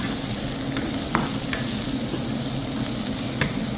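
Vegetables for noodles sautéing in a pan, giving a continuous sizzle with occasional scrapes and taps of a spatula stirring.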